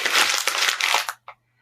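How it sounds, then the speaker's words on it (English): A sheet of paper crumpled by hand, a loud, close burst of crackling and crinkling that stops abruptly, followed by a couple of faint rustles. "You could take a paper and crumple it."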